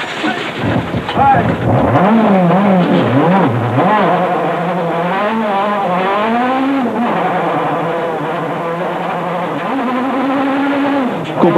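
A 1999 rally car at Rali Oliveira do Hospital revs hard as it restarts after being pushed, its engine note climbing and falling loudly and steadily for several seconds.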